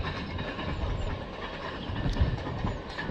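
Inside a moving passenger train, a continuous rumble of wheels on rails with faint rhythmic clatter, steady and enveloping with no voices.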